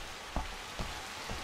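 Rain patters steadily on a balcony in the video game Observer, a soft continuous hiss with a few heavier drops landing at intervals, heard alone.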